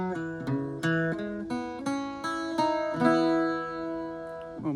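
Close, clean plucked notes on an Irish bouzouki play the alternate ending of the Shaskeen Jig, a short rhythmic phrase that closes on a ringing, sustained note.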